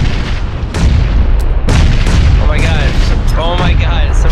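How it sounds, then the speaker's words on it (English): Grenade blasts in PUBG go off as several heavy booms at uneven intervals, loud and close, while voices keep talking over the din. "Grenades incoming."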